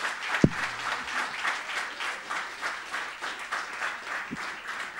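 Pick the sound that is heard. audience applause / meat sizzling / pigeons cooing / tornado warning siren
audience applause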